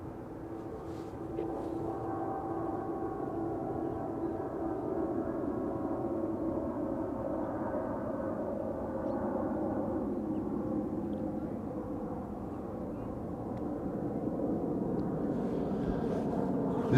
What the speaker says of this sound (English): Meanwhile, outbound traffic overhead.